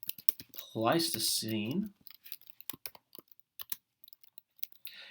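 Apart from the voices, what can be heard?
typing on a computer keyboard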